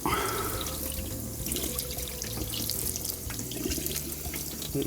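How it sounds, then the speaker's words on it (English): Salt- and sugar-cured salmon rinsed and rubbed under a running kitchen tap, a steady close rush of water splashing into the sink throughout with small shifts as the fillet is handled. "giving it a real good rinse and a rub just to make sure all of that salt and sugar's off"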